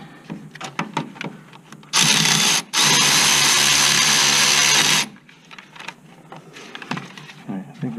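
Power impact tool driving in the bolts on a Chevy Trailblazer front wheel bearing, one long loud whirring burst of about three seconds with a short break, amid quieter clanking shop sounds before and after.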